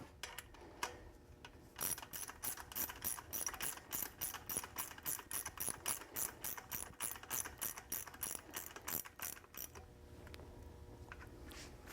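A hand ratchet tightens bolts on an MGW MT-82 compact race-spec shifter, giving a fast run of sharp, evenly spaced clicks. Short bursts come between pauses, close up and fairly quiet.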